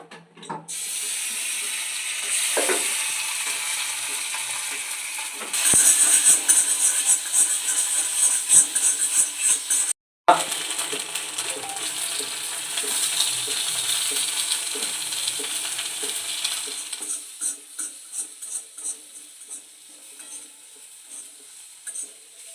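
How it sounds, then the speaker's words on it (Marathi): Ginger garlic paste sizzles and spatters in hot oil in a pan, a steady loud frying hiss with occasional stirring scrapes, settling to a softer crackle toward the end. "सो आपण आता थोडं तेलामध्ये जिंजर गार्लिक पेस्ट टाकूया."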